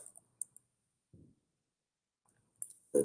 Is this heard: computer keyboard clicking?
yes